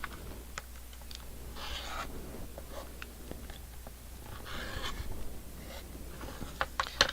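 Scissors cut through quilt fabric in quiet, crisp snips and brief rasping slices over a low background hum, with soft handling clicks scattered between the cuts.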